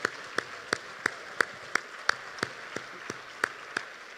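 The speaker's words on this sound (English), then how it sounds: "Please give them all a great big round of applause," Steady, evenly spaced claps ring out from an audience at a JDRF charity gala, a slow rhythmic clapping at moderate loudness with no talk over it.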